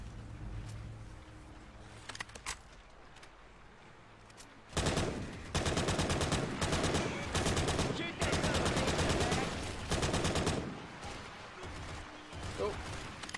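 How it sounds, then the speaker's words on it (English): Rapid machine gun fire from the Left 4 Dead 2 video game comes in loud sustained bursts after a quieter opening with scattered shots, then tails off; voices are faintly present. "Machine gun."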